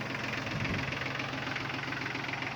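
An Iseki TK25 25-horsepower Japanese mini tractor engine idles steadily with a low, knocking rumble, continuous and close, with no other sounds.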